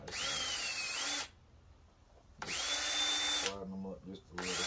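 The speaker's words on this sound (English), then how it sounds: "I need the drill" A power drill whirs in two loud bursts of about a second each during repair of an MFJ-1982 end-fed half-wave antenna, separated by quiet pauses, with a third burst starting at the end.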